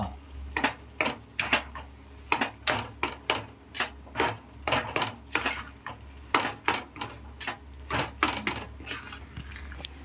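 Clinking and scraping of a spoon against a pan as chili powder is mixed into a potato curry, steady rhythmic metal strokes close by with no talk.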